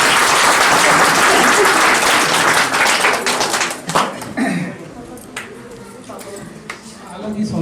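A crowd at an Uttarakhand Milan Samaroha community gathering in Gurgaon claps loudly and densely for about four seconds before the applause thins into scattered claps, followed by talking.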